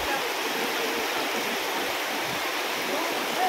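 A waterfall at Villa Escudero makes a steady, continuous rushing roar, loud and close, that fills the whole moment without a break.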